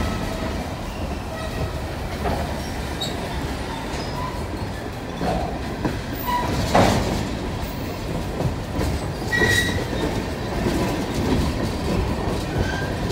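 A freight train with a tank car and rock cars bound for a quarry rolls past steadily, with a continuous rumble, rhythmic wheel clatter and occasional metallic squeals, fairly close and with little talk.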